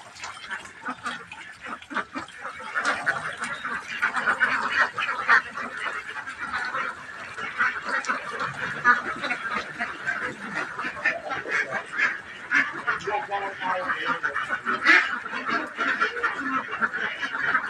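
A flock of ducks quacks steadily and loudly from close by, with overlapping nasal calls continuing throughout.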